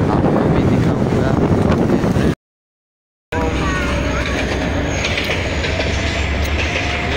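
A train rolls past in Karachi near the international airport, a loud steady roar and rumble of wheels and cars with heavy wind buffeting the microphone, broken by a brief silent gap before the noise resumes.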